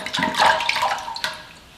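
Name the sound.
splashing distilled water to rinse face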